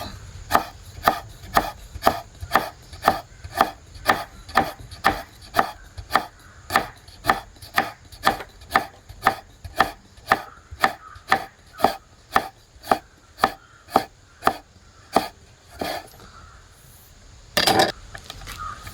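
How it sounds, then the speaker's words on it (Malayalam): A knife slices raw mango on a board in a steady run of crisp, evenly spaced chops, close and clear, with no talking. "ഇതൊന്ന് സ്ലൈസായിട്ടൊന്ന് ചെറുതായിട്ട് അരിയാം, നൈസായിട്ട് നീളത്തിൽ."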